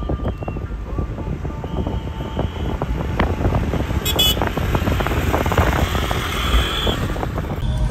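Steady rumble of nearby local vehicle traffic in a Shimla traffic jam, engines idling and moving, some wind noise on the microphone and a brief horn toot.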